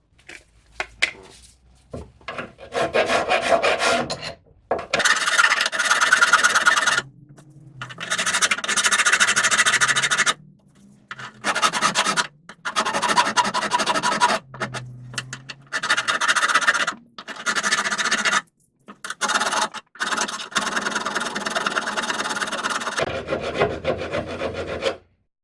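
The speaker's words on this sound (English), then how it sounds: "So the next trick is to try and file an edge onto it." A file rasps against a metal brake union in repeated long strokes, a harsh scraping with squealing edges, broken by short pauses between bursts; no talking.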